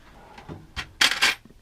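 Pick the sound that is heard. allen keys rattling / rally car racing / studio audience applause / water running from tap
allen keys rattling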